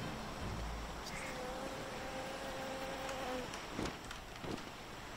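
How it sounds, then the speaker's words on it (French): Mosquitoes buzz in a video game, a thin steady whine that holds for a few seconds over a constant background hiss, with a couple of brief louder blips near the end. "Il y a des sacrés bruits de moustiques quand même."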